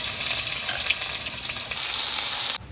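Garlic and onion paste sizzles steadily in hot oil, a loud close hiss and crackle that continues evenly, grows slightly stronger, then cuts off abruptly near the end.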